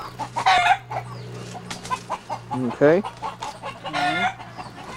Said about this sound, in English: See the chickens in the trees?